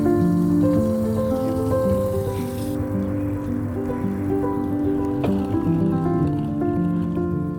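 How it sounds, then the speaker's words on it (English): Steady rain patters across a surface without a break, with a low continuous tonal hum running underneath. "Where there's green and sun, there's also rain."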